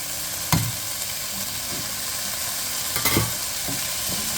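Garlic and onions frying in a pan for a smoked chicken and vegetable soup, a steady close sizzle broken by two sharper scrapes of stirring, with no talking.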